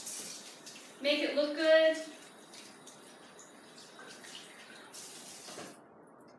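Tap water runs over a plucked chicken being rinsed clean of leftover hair on a farm, a brief burst of splashing flow that fades to a low background under a speaking voice.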